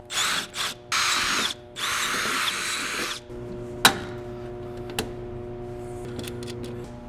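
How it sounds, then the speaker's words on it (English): A power drill whirs in several short bursts, drilling out bolt holes on a VEVOR 60-gallon sandblasting cabinet, then stops; afterward a couple of sharp taps and faint clicks sound against a quiet background. "I'm just going to drill those out a little bit."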